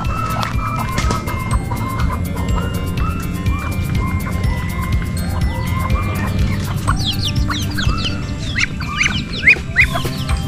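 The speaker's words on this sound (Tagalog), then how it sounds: "Ito po yung tandang ko na decalf brown." A decalf brown rooster clucks and calls repeatedly on a backyard poultry farm, with other chickens chirping nearby and busy overlapping bird sounds throughout.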